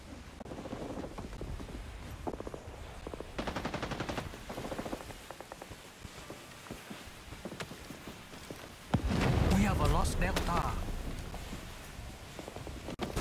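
Gunfire in Rising Storm 2 Vietnam, scattered bursts of automatic fire at middle distance amid ambient battle noise, with a louder rushing burst of action toward the end.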